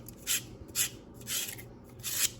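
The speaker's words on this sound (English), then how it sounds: "And then we'll want to do the same thing to the outside with this little sander here." A small handheld sander smooths the outside of a freshly cut copper waterline in four short, raspy bursts of rubbing, close and fairly quiet, with brief pauses between strokes.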